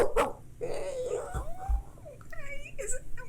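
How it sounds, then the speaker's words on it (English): A small dog barks and yips a few times close by, its short high calls mixed with whimpering and a slightly whiny, voice-like tone. "As you get closer, you begin hearing that barking."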